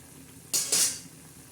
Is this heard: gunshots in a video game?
no